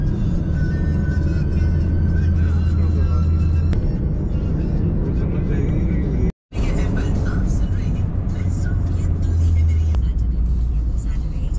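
A Maruti car drives along a city road in Dwarka, Delhi, with a steady low engine and road rumble heard from inside the cabin, a brief dropout midway, and a person talking over it.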